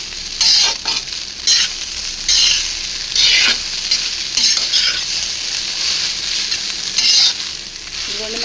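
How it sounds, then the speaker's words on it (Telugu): Fried rice with onions tossed in a hot pan: loud, close sizzling with bursts of vigorous stirring and scraping at irregular intervals over a constant frying hiss. "ఇప్పుడు ఇందులో నేను కొన్ని ఉల్లిపాయలు కూడా వేసేసి కలిపేస్తా."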